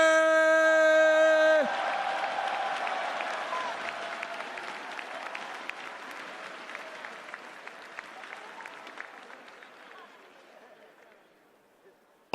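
A crowd in a large hall applauds and cheers at an esports fighting-game awards presentation, clapping dense at first then gradually thinning and fading, following a loud musical sting at the start.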